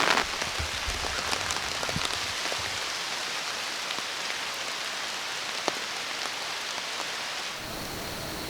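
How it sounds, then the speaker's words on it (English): Steady rain pours onto surfaces around a bow hunter's setup in rural Illinois woods, a dense unbroken hiss lasting throughout, close and even, with a few louder drop impacts. "Things got rainy real quick here."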